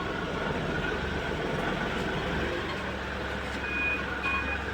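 A vehicle sounds reversing beeps as it is parked, a few short, evenly spaced tones near the end over a low engine rumble.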